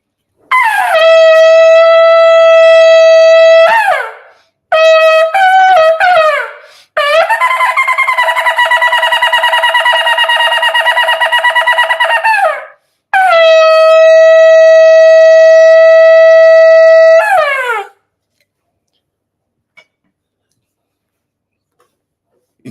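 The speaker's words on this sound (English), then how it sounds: "לשם מצוות תקיעת שופר" Shofar blasts, alone with no talk: a long sustained wavering horn call, a cluster of short broken notes, then two more long loud calls, each sliding up or down in pitch at its start and end.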